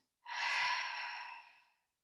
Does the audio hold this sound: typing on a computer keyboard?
no